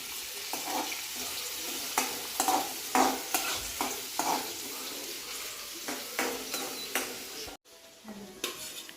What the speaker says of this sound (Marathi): मस्तपैकी कांदा फ्राय करून घेते ती आधी